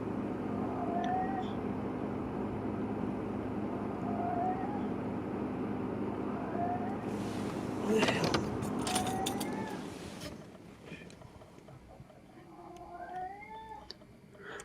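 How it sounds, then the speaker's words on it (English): A pet cat meows several times in the background, each call faint and drawn out, over a low room hum. A louder burst of noise cuts in partway through. "Sorry for my cat in the background."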